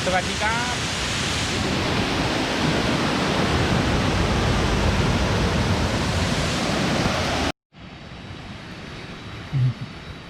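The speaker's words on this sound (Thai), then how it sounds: "บรรยากาศน้ำตก เกิงกระเวีย สวยมาก" Kroeng Krawia waterfall pours in a steady, loud broadband rush up close, then a brief cut drops to a softer, more distant wash of falling water.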